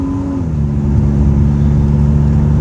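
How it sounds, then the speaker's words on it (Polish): Original JDM exhaust on a Honda Odyssey RA minivan with 4x4 and a four-speed automatic, a loud, steady low engine drone heard from inside while driving, with a slight shift in pitch early on. "Fajnie słychać wydech. Ten wydech to jest oryginalny JDM-owy wydech."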